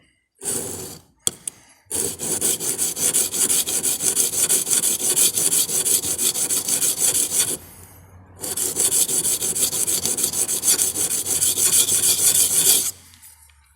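New hand plane blade having its bevel sharpened on a 220 grit stone, loud continuous rasping and scraping strokes in two long runs separated by a short pause, close up, no talking.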